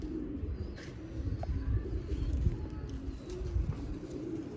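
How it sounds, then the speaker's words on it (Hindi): Zeera breed pigeons coo softly in low, rolling murmurs that repeat close by, with faint chirps and light rustling over a muffled background. "ये दोस्तों कबूतर है,"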